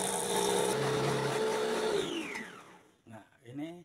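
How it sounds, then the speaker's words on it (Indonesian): A blender whirs loudly and steadily as it purees pandan leaves with a little water for an es dawet or cendol drink, then spins down to a stop before a voice begins speaking. "Nah, ini jus pandan udah di blender, hasilnya seperti ini ya."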